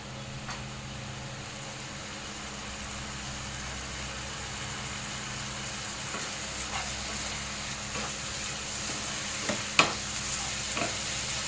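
Spices for a stingray curry sauté with a splash of water in a pan, giving a steady close sizzle and hiss with repeated scraping stirs and a few sharp clinks near the end, no talking.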